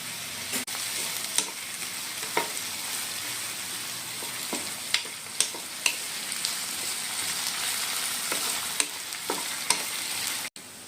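Sliced onions frying for beresta on a high gas flame, a dense continuous sizzle with scattered sharp clicks of stirring throughout.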